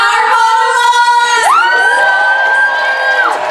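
A school audience at the opening of a student monologue show at Berkeley High cheers loudly, with shouts and whoops running throughout; a high sustained whistle or squeal rises and falls over the crowd noise, and no snapping stands out.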